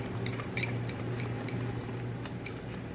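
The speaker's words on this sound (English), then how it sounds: "I'm going to go ahead and just whisk my sugar and cinnamon together" A whisk stirs sugar and cinnamon together in a bowl, making quick, repeated light clinks and scrapes against the bowl over a soft background hum.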